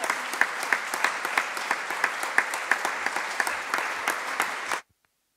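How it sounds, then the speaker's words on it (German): Audience applause closing a panel discussion on postcolonial memory culture in Flensburg, steady clapping with rhythmic accents lasting nearly five seconds before stopping abruptly into silence. "auch nach dem Applaus"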